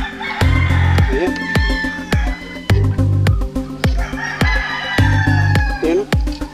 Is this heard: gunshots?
no